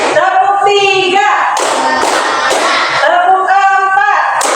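A class of children claps hands together in a counting clap game, short bursts of sharp claps interleaved with loud chanted group voices, close and energetic.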